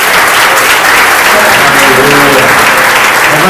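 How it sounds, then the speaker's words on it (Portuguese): A church congregation claps steadily and densely throughout, a loud sustained applause with a voice rising faintly beneath it during worship. "Levante as suas mãos, aplauda Jesus mesmo."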